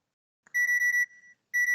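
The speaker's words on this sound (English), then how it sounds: "My phone's alarm wakes me up as usual." A phone alarm going off in a video game, giving two bursts of sharp, high, repeated electronic beeps separated by a short gap, clear and alone.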